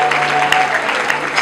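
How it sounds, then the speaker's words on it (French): A hall crowd claps loudly and steadily through a funeral service, the applause dense and continuous for about a second and a half, with a faint steady hum running underneath. "je demande à la salle d'acclamer très fort"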